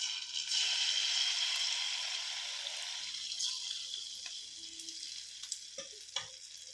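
Malpua batter goes into hot oil in a pan, setting off a loud, bright sizzle that settles into softer frying crackles with a few sharp pops near the end.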